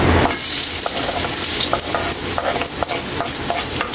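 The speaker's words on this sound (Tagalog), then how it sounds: "mainit na yung mantika natin. Unahin natin Kaylee yung luya." Ginger sautéing in hot cooking oil in a pan, an intense close sizzle and crackle with scattered sharp pops and stirring clicks throughout.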